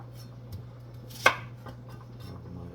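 Scallion chopped on a board, a few soft knife taps at close range and one sharper, louder chop in the middle over a low steady hum.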